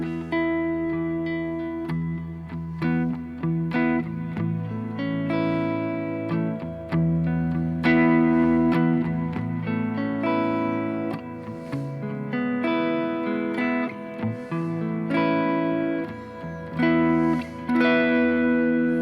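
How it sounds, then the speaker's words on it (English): Sustained electric guitar chords and notes bloom into a wide, lush convolution hall reverb on a Tone Master Pro, with long shimmering tails washing together over nearly twenty seconds. "now we get to my favorite, the Ethereal Convolution Hall. This thing, I love this reverb."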